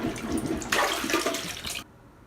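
A household toilet flushes loudly and close, with a gushing rush of water that surges, then drains and cuts off abruptly into near quiet.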